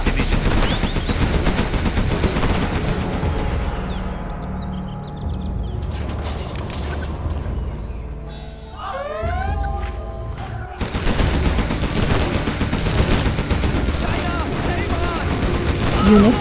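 Rapid machine-gun fire and explosions from a Command & Conquer Generals skirmish between China and USA, dense bursts of gunfire with a lull in the middle, while a voice speaks over the battle.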